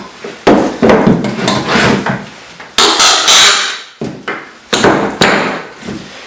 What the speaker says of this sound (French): je suis capable d'enlever mon clou